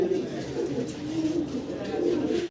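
Pigeons coo softly and repeatedly at close range, low rolling calls overlapping one another, with a faint voice nearby.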